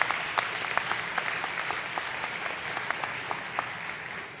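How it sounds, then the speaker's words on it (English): A graduation audience at Rancho Solano Preparatory School in Scottsdale, Arizona, Class of 2019, applauds steadily, a moderately distant wash of many hands clapping with a few sharper claps standing out. "So give him another round of applause"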